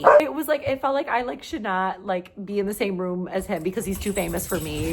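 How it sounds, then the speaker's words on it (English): Several excited pet dogs yip and bark in quick bursts, close by and fairly loud, with someone talking over them throughout. "My dogs are going crazy right now."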